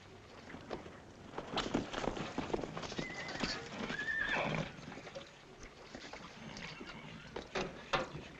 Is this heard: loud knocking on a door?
no